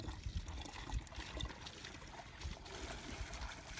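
Water splashes and trickles nearby in an outdoor fishing and cooking setting, a soft, continuous pouring with small bursts, fairly faint.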